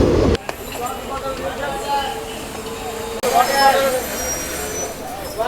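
Indian passenger train running from Pollachi to Guruvayur, a rumbling carriage interior with rhythmic wheel clatter and faint squeals, people talking throughout.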